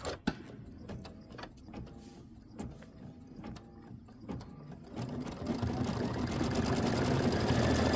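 An embroidery sewing machine stitches a quilt block, giving a steady rapid mechanical whir and clatter that starts with sparse ticks and grows into continuous, louder running.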